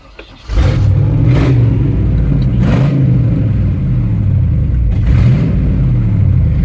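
A GMT400 pickup truck engine cranks and catches, then settles into a loud, steady rumble with a few revs rising and falling, heard close by with no talking.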